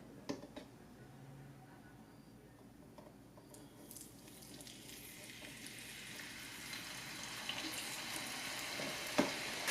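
Frozen fries frying in a T-fal FF1628 Filtra One electric deep fryer: a steady hissing sizzle that builds gradually louder over several seconds, with a few small clicks and knocks from the basket, close and continuous.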